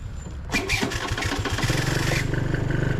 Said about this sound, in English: let's do a cold start up, early morning start